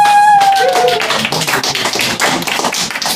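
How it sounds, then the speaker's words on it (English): A comedy club audience in Rotterdam claps warmly for a comedian. The clapping is uneven and somewhat sparse, with individual claps standing out, and it starts just after a fading tonal sound. "can I get a very warm applause for"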